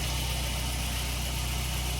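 A Volkswagen Saveiro G4 with a 1.8 AP engine idles steadily in the evening, a low, even, continuous hum with no speech over it.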